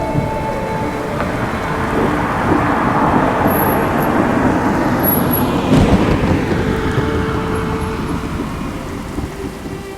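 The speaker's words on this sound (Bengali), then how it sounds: "হঠাৎ এক প্রচণ্ড ঝড় শুরু হলো বৃষ্টি বজ্রপাত চারপাশ অন্ধকার" Heavy rain pours down continuously while thunder rolls and swells through the middle, a dense, loud storm with no voices.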